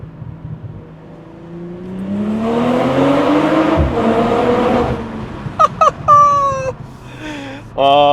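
BMW M340i with a 300-cell downpipe and resonated OPF delete accelerating through a tunnel, its exhaust note rising in pitch and swelling loud before easing off, followed by short squeaky sounds and voices.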